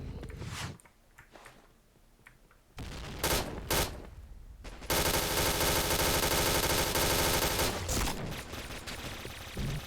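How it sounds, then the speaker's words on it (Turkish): Gunfire and grenade blasts in the online shooter Point Blank: sharp bursts of shots, a few loud explosive bangs, then a long dense stretch of rapid firing, close and loud. "Hayvan gibi bomba atıyorlar dayı."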